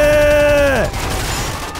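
A gatling gun fires in GTA5 during a police chase, a loud mechanical whine that winds down sharply and then gives way to a dense, rattling burst of gunfire and crashes, close and continuous.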